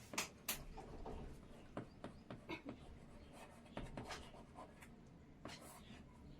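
Pen scratching out an exercise heading by hand for a class 7 maths lesson, a string of short quick strokes with pauses, fairly close and faint.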